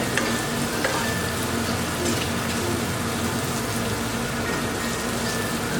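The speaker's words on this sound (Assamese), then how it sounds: "মছলাখিনি এইখিনি প্ৰায় ভজা হৈছে" Spices and tomato frying in a pan for a sesame and pumpkin chicken curry, giving a loud, dense, steady sizzle with scattered pops and stirring scrapes close by, no talk.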